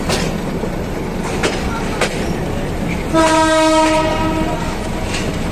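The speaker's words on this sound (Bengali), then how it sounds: "ট্রেন এখন নারায়ণগঞ্জের কাছাকাছি প্রায় চলে আসছে" A Narayanganj commuter train rumbles along its line in the evening, a continuous loud clatter with sharp rail knocks, then a sustained horn blast lasting about a second midway.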